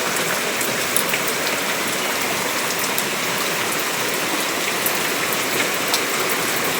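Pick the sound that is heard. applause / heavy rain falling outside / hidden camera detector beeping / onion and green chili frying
heavy rain falling outside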